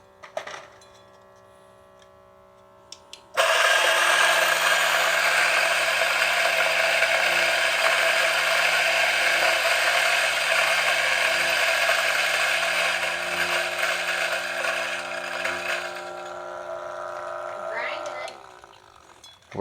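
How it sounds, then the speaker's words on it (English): Coffee beans ground in an electric coffee grinder, a loud steady whirring grind starting after a few quiet seconds and running about fifteen seconds before winding down. "Throw that in the grinder."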